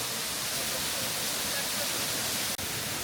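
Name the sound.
waterfall in Plitvice Lakes National Park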